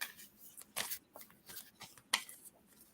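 Tarot cards being shuffled by hand, heard as soft, quiet papery bursts and riffles in an irregular rhythm, with a few sharper flicks between them and no talking.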